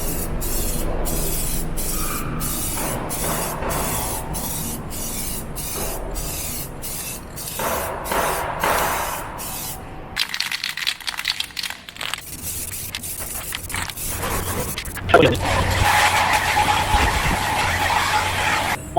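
A spray gun lays 1K clear coat onto a car bumper: a rapid series of short, evenly spaced hissing bursts, then longer continuous spraying passes, loud and close.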